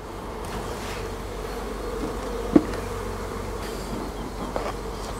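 A steady, dense hum of many honey bees buzzing close by at an open hive, continuous throughout with one brief sharp tap midway.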